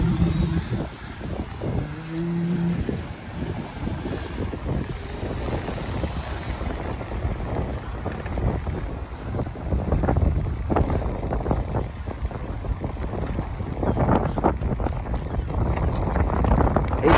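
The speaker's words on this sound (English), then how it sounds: "It's very windy this morning, to be honest with you." Strong wind buffets the microphone in loud, rumbling gusts that swell and fade, with a brief tonal hum early on and no talking.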